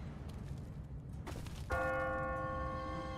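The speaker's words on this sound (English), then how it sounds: "What kind of church bell goes off at 20 past the hour?" An automatic church bell strikes once in The Walking Dead video game, a loud, clear metallic toll that rings on and slowly decays over a low ambient hum, with no one speaking.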